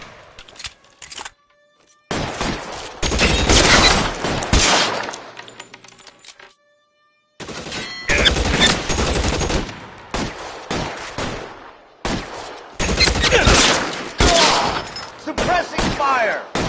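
Rapid gunfire crackles in the L.A. Noire video game, with dense bursts of shots in several clusters broken by short quiet gaps, and voices shouting in between.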